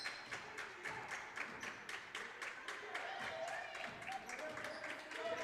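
A girls' high school basketball team bench claps in a steady rhythm at a gym game, the claps fairly faint and heard under continuous play-by-play commentary.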